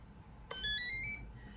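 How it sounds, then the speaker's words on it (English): A short electronic beep sequence from a 1/30 scale Heng Long RC toy tank powering on, a few rising tones lasting under a second, sounding close and fairly quiet against a low background hum. "Yeah, it has a beep sound."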